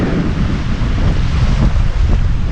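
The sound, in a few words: strong wind blowing at Mapanuepe Lake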